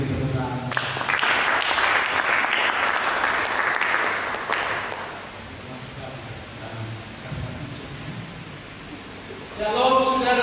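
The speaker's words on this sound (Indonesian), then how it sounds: "Mari kita berikan tepuk tangan." A church congregation bursts into dense applause for several seconds before it fades, then a voice speaks over the room and clapping rises again at the end.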